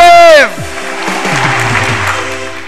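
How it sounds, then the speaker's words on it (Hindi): A studio audience on the Ramadan game show Noor e Ramazan bursts into sustained applause right after a brief voice, the clapping steady and fairly close for the rest of the moment. "तालियां बस।"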